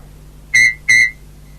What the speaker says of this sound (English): When you hear Thomas whistle, turn the page.